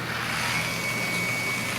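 A steady low whirring hum of a rotary car-polishing buffer running at 600 RPM, smooth and fairly quiet, with no voices.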